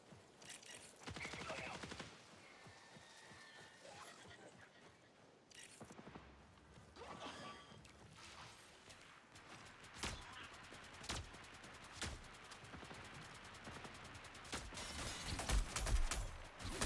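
Turrets fire in a video game, with rapid bursts and sharp single shots amid mechanical clatter, rising in intensity toward the end.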